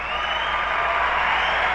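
An audience applauding at a talk, a steady unbroken wash of many hands clapping that holds at an even level throughout, heard alone with no voices.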